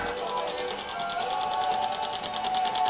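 A homemade gravity-assisted pulse motor runs with a fault, giving off a continuous, even, rapid pulsing buzz with a fast mechanical rhythm and no pauses.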